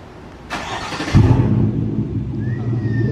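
After a remote start, a car engine catches with a sudden burst and then settles into a steady low idle rumble nearby, with no talk.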